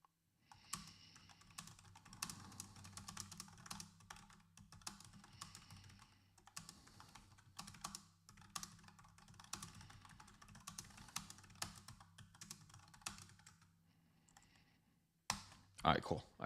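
Rapid keyboard typing clatters in uneven bursts with short pauses, close up and fairly quiet, ending with a louder knock or two.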